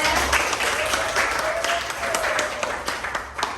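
Classmates in a school classroom give brief, lively applause, a few seconds of scattered clapping with some voices mixed in.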